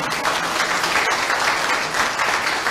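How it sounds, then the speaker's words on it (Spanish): Brisk applause from an audience at a school inauguration event, close and dense, sustained evenly through the short moment. "Bien, aplausos para la..."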